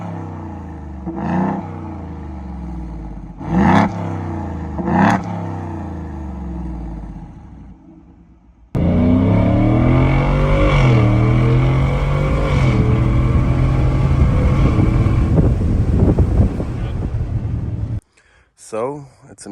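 Ford F150 pickup with a Corsa Extreme exhaust heard from inside the cab, with three sharp revs rising and falling over an idle, then a long loud steady roar that cuts off abruptly, with people talking through much of it.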